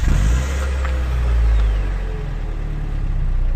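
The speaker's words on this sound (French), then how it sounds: "Ce 4 cylindres, il sait chanter, mais d'origine, ça donne ça" A Mazda MX-5 NB with its stock four-cylinder engine and exhaust, a muffled, low engine drone with a deep rumble that swells slightly and then settles into a steady hum.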